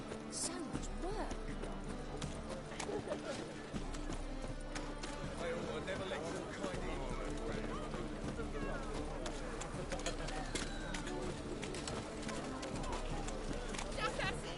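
Horse hooves clip-clop steadily in the video game The Witcher 3, a continuous rhythmic plodding under ambient game sound with birds cooing in the background.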